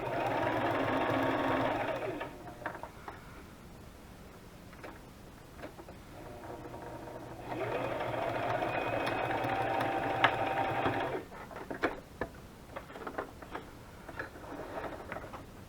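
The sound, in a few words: sewing machine stitching a junk journal cover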